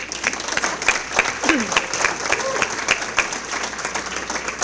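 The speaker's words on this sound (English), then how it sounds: "We can clap. You want to clap?" At a Hall of Fame awards dinner, the audience applauds an honoree with a steady, fairly loud patter of many hands clapping, with a faint voice underneath.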